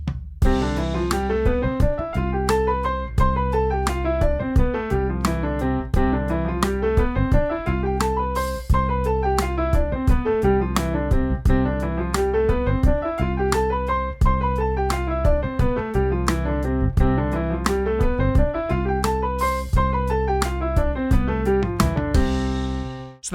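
Piano plays fast sixteenth-note runs, four notes to each beat, rising and falling in repeated scale-like patterns over a steady drum track, loud and continuous with no talk.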